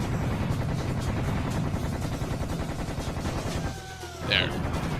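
Tommy gun fire in Serious Sam: a steady, dense rattle of automatic shots runs through the clip, briefly dropping out near the end before a sharp burst returns.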